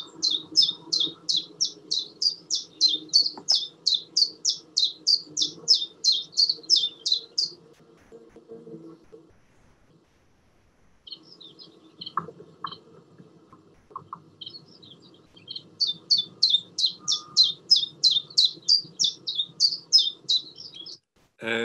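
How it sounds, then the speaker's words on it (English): A chiffchaff sings in Sussex in summer, repeating even two-note chips in a long regular series, pausing, then resuming, with a low steady background hum beneath. "So this is the chiff-chaff."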